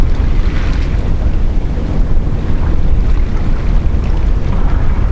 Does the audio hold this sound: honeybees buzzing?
no